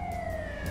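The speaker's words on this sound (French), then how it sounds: "Ah, c'est enfin les ambulances." Ambulance siren from GTA 5 wails steadily and loudly with a gliding two-tone sweep over engine rumble, a short continuous burst with no talk.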